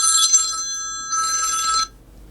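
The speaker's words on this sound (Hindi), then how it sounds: "फोन, इतनी सुबह।" Indoors, an electronic telephone bell rings in two clear bursts, loud and close, before cutting off into quiet.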